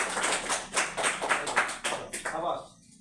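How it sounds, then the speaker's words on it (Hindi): A classroom of students claps after a correct answer in a maths lesson, a burst of brisk, fairly close claps that thins out and stops near the end. "इसके लिए जोरदार तालियां होंगी।"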